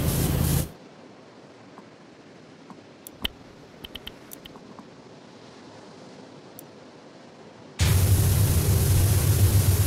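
Pressure washer spraying in the video game Power Wash Simulator, a loud steady hiss of water that cuts out after a second, leaves a few faint clicks in near silence, then roars back on strongly near the end.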